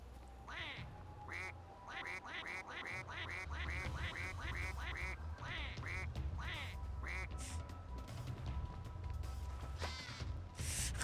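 A duck quacks over and over in the video game We Happy Few, a rapid run of loud nasal quacks over a low ambient drone, thinning out toward the end.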